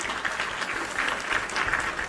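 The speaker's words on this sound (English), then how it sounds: "Let's give a round of applause right there for the children." A crowd applauds for children, with a dense, steady patter of many hands clapping at moderate distance, sustained without a break for a couple of seconds.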